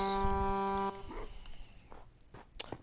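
A goat horn is blown in Minecraft, giving one loud, steady, low tone that holds for under a second before cutting off, followed by quieter game ambience and scattered clicks.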